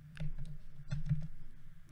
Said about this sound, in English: now let's type the city name also